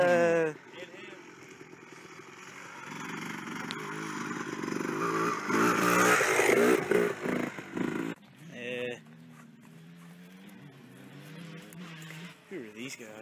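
Engines of a Honda and a Ford Mustang rev and pass by, a rising motor roar swelling to a loud peak midway then dropping off, with people talking over and between the passes.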